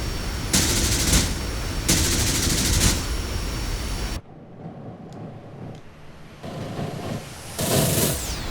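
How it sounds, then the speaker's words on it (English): .50 caliber aircraft machine guns in DCS World fire in loud sustained bursts, three long broadband volleys separated by brief pauses, with a quieter cockpit hum between the later bursts. "the gun audio could use some work on those 50s"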